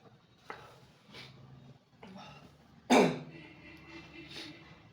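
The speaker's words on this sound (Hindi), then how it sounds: "सॉरी खांसी है मुझे जरा" A single sharp cough bursts out near the middle, close and loud, with quieter speech-like murmurs and breaths before and after.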